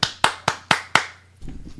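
Five sharp, evenly spaced hand claps play as a sound clip, each crisp and close, followed by a brief low rumble.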